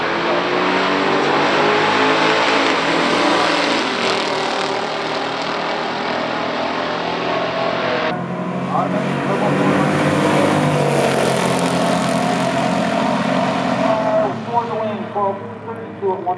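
A 1971 Dodge Hemi Super Bee with a 426 engine and a 1972 Buick GSX Stage 1 in a stock drag race on a drag strip roar loudly at full throttle through rising gear changes, while someone talks over them.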